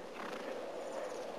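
A horse whinnies in a brief, fairly close burst, with faint hoof movement beneath and no speech.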